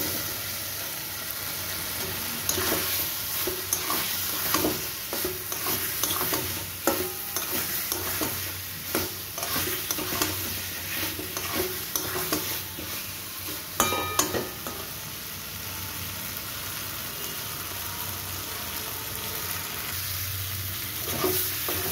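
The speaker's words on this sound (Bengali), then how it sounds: "আলুটা দিয়ে মশলার সাথে ভালো করে নাড়াচাড়া আমি করে নিয়েছি" Potatoes with masala are stirred and fried in a pan. A steady sizzle runs throughout, close up, punctuated by frequent scraping strokes of a spoon against the pan.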